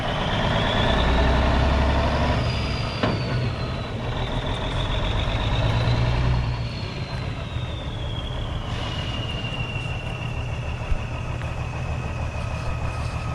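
Engine of a Peterbilt 379 barn-find truck running steadily at idle, a loud continuous low rumble with a faint high whine that drifts in pitch throughout.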